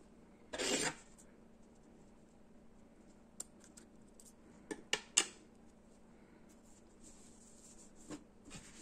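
Scissors snip through wool yarn threads while finishing a crocheted coaster, a few sharp, crisp close cuts spread across an otherwise quiet stretch, with light handling noise between them.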